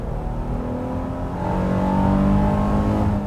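The 3.5-liter naturally aspirated V6 of a 2022 Honda Pilot TrailSport revs up steadily into VTEC. Its loud, close engine note climbs and grows fuller partway through.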